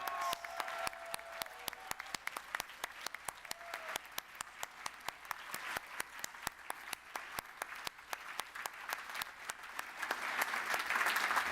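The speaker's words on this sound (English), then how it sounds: "Let's have a huge round of applause and a cheer for all of those graduates." Sustained applause from a large audience at a university graduation ceremony, dense steady clapping throughout with cheering swelling toward the end, no speech.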